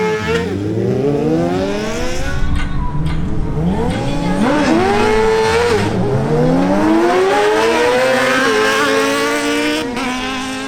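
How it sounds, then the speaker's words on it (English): A Yamaha R6 and a Kawasaki Ninja Z1000SX drag race, engines screaming loud and close as they climb through rising revs with gear-change dips, the combined roar sustained throughout. "We begin with a duel between the Yamaha R6 ridden by Christian Gels and the Kawasaki Ninja Z1000SX ridden by Martin Correa"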